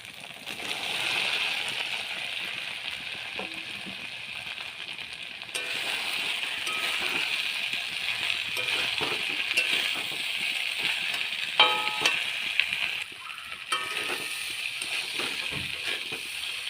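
Fried jackfruit and potato go into a pan of cooked-down spice paste in oil, giving a steady close sizzle with scattered clinks of a utensil against the pan and no talk.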